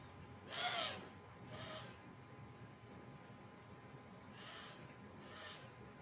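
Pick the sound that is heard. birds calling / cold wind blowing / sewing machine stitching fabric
birds calling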